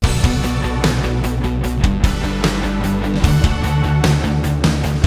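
A future punk synth sound bank playing in full arrangement, dense electronic music with punchy drums, bass and layered synths driving steadily and loud, with no voices.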